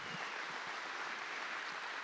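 Faint, distant, continuous applause from the audience at a men's church conference, a soft even wash of clapping with no pauses.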